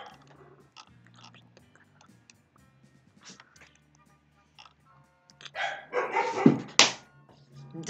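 A dog barks near the microphone in a short cluster of loud, rough barks after a long, mostly quiet stretch, with faint game sounds underneath.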